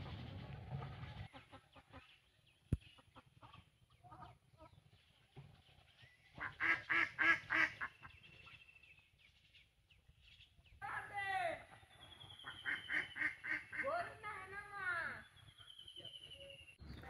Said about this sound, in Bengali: হাঁসগুলো সুন্দর সাড়া নিল